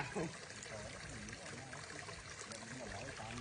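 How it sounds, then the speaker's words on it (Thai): Spring water welling up from the ground and filling a pond, a steady trickling pour heard close, with talking and a brief voice near the start. "นี่น้ำมาจากไหนอ่ะ เนี่ย น้ำผุดนี่เนี่ย ทุกคนมีน้ำผุด นี่ มีตาน้ำเหรอเนี่ย"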